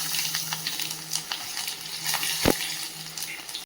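Dried red chillies, whole cumin and whole garlic fry in hot oil in a kadai, with a continuous crackling sizzle, soft stirring scrapes and one sharp utensil clink near the end.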